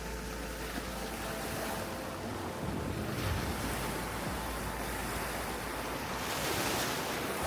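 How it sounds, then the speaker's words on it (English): Ocean waves break and surge loudly around a sailing boat in shallow cuts of the Jumentos Cays, a steady roaring wash with wind noise buffeting throughout. "Oh, it's breaking waves again."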